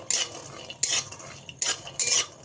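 Peanuts tossed in ghee in a kadai give four sharp, scraping bursts of stirring, spaced irregularly over a soft sizzling bed, close and moderately loud with no voices.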